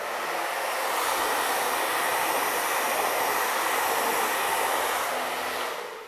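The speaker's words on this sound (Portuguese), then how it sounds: "Vou secar com essa coisinha aqui, ó, o difusor. Vou jogar ele todo no quente," A hair dryer fitted with a diffuser, set to hot on low airflow, gives a steady, close whoosh with no break until it cuts off at the end.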